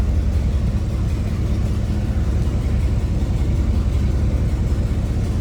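A 1962 Ford Galaxie 500 Club Victoria's 352 V8 engine rumbles steadily at idle, a deep continuous low throb with even loudness throughout.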